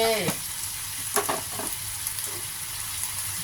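Kale and canned fish sizzle and crackle as they are stir-fried in a hot pan, with a few louder scrapes and tosses over a steady hiss.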